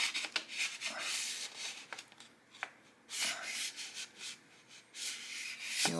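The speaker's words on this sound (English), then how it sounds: "first we're going to put the knife in here and kind of see how it feels" A knife slides into a handmade leather sheath with repeated rubbing, scraping friction, close and fairly loud, in bursts with short pauses.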